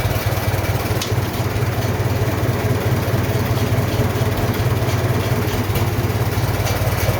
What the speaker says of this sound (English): But for now, I'm just happy it idles.